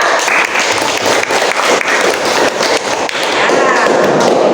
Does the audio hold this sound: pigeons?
no